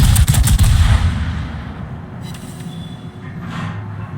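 Naval gunfire from a warship video game, the Incheon firing armor-piercing shells: a loud cluster of booming salvos at the start, fading into a rumbling tail and distant echoing reports.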